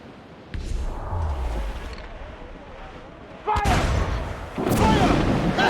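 Ship cannon fire in the Assassin's Creed Freedom Cry video game, with two loud booming blasts over a busy battle backdrop and shouted crew orders.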